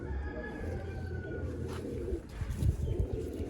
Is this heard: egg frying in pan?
no